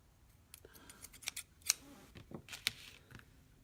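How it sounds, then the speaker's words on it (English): Scissors snip through baker's twine for a Chalk Couture Valentine sign, several short crisp cuts at an uneven pace, close and clear in an otherwise quiet room. "I'm going to take some baker's twine and cut it."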